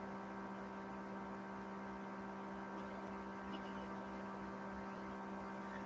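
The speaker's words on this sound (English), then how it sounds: "I'm just turning the white noise down a little bit" White noise from a spirit box used in a late-night ghost-hunting session: a quiet, steady electronic hiss layered with a constant low hum, unchanging throughout, with only a couple of tiny faint clicks.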